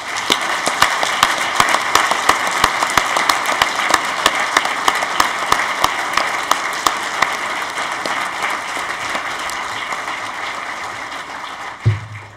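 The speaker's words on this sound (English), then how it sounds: "please join me in saluting with our applause the November graduates of the United States" Audience applause for the November graduates of the United States Naval War College at a graduation ceremony, a dense, steady wash of many hands clapping that carries on evenly for about twelve seconds before a brief thump at the end.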